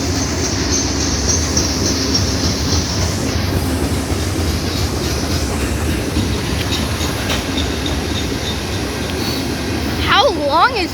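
A long freight train hauled by five locomotives rolls past at Folkston, Georgia, a steady loud rumble of wheels and cars with a few squealing wheel tones near the end and occasional voices underneath.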